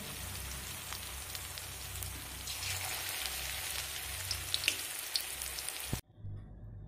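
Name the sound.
raw papaya pakoras deep frying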